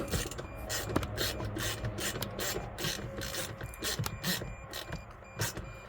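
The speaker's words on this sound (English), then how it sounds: "Now I'll tighten up these bolts while we're watching here." Bolts on the steering column of a Mercedes Sprinter van being tightened, giving a steady run of close, rasping ratchet clicks and metallic scraping with no talk.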